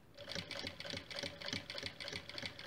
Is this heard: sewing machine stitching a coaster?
yes